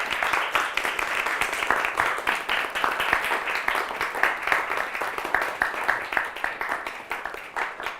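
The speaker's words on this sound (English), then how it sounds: "Let's give a huge round of applause for our honorable guest." Sustained audience applause at the Oxford Union, dense, even clapping holding steady throughout at a moderate level, with no voices standing out.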